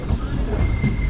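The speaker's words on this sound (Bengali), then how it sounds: "রানীনগরে এসে দাঁড়িয়ে গেল ট্রেন" A passenger train runs at Raninagar junction with a loud rumbling rattle and faint high wheel squeal, heard up close from on board.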